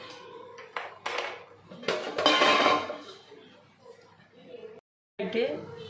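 Flattened rice (aval) is lightly dry-roasted in a pan for a sweet aval urundai, with a metal spoon clinking and scraping against the pan in irregular bursts while someone talks throughout.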